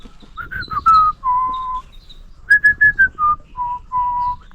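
A person whistles a melodic tune while pruning a bonsai tree, clear sustained notes in two phrases with a short pause between, close and alone without speech.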